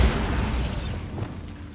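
A Bombarda blasting spell goes off in the video game Hogwarts Legacy: a heavy, booming blast strongest at the start, with a low rumble that slowly fades over nearly two seconds.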